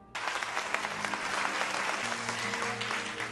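A full audience at a feast breaks into a sustained round of applause, dense clapping starting abruptly and holding steady and loud throughout.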